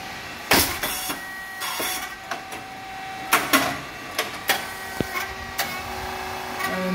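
The SYP8002 rice cake machine runs with a three-phase motor and pump. A steady mechanical hum carries sharp, irregular clanks and thumps that repeat across several seconds.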